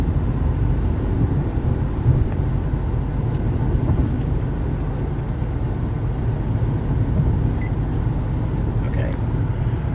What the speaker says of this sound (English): You can hear a little bit of the interior ambience of the car